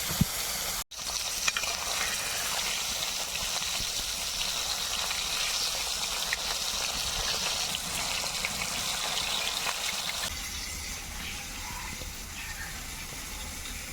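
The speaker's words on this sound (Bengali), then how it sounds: "এবারে মাছগুলোকে ভেজে নেবো" Koi fish (climbing perch) fry in hot oil, a dense, continuous sizzle and crackle heard up close, with a sharp knock near the start and the bubbling softening slightly toward the end.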